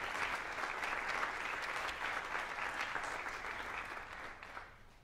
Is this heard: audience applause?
yes